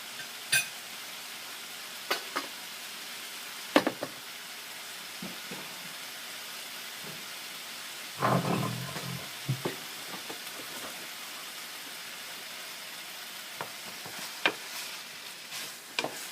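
Ginger pork frying in a pan gives a soft, steady sizzle, broken by occasional clinks and scraping stirs.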